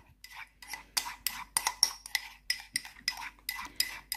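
Homemade moisturizer of snail slime and aloe vera gel stirred in a bowl, a steady rhythm of close, wet scraping clicks repeating about three times a second, with no talk.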